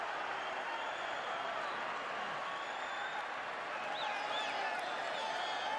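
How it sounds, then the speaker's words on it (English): Boxing arena crowd at a classic fight between rounds, a steady distant murmur of spectators with faint whistles, no clear applause peaks. "There's the crowd."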